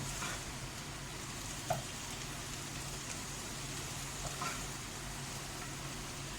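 Ginger and garlic sauteing in a pan for a mutton kofta masala give a steady, soft, quiet sizzle and crackle throughout, with a couple of faint clinks and no talking.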